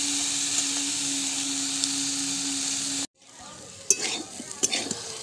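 Boiled potatoes fry in a little oil in a pan with a steady, close sizzle, then after a brief cut, scraping stir strokes and clinks sound over a quieter sizzle.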